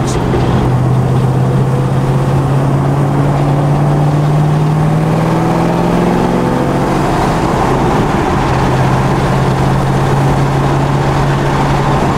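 Steady low engine idle from a tuned car running slightly rich after added fuel, a loud continuous drone with a slowly wavering pitch and faint rising tones, no talk over it.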